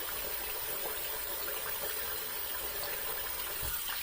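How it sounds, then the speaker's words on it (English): Running water from a rinse after a first shave, a steady broadband wash of flow with no voices, holding evenly for a few seconds with a slight thump near the end. "Now we're just gonna rinse off real quick."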